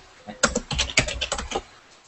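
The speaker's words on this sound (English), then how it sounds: "Somebody's typing very furiously." Fast, furious typing on a computer keyboard, a dense burst of key clacks lasting about a second and a half, close and fairly loud with no talk over it.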